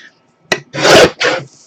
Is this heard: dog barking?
no